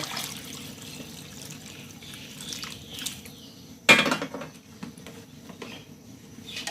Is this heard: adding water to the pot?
yes